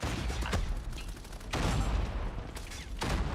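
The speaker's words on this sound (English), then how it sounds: "the amount of nades actually entering that hill, man, is gonna be crazy" Grenades explode one after another on a contested hill in a Call of Duty esports match, a loud dense barrage of blasts and gunfire with short swells.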